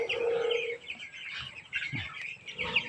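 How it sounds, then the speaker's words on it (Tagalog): Several broiler chickens cluck and squawk close by, with overlapping calls and a brief low thump, no people speaking. "Yan ang mga manok ko na inaalagahan"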